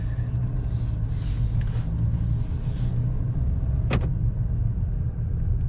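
A 2022 Ford Maverick XLT with the 2.0 engine and AWD pulls away, giving a steady low rumble of engine and road noise heard from inside the cab, with a brief sharp click partway through.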